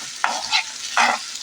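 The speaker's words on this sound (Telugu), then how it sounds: "ఇప్పుడైతే పొటాటో పీస్ని ఇంకా మంచిగా కలుపుకుందామండి." Thinly cut potato pieces, for a crispy potato fry, get stirred in a frying pan: two quick scraping strokes a moment apart, close and clear over a soft sizzle.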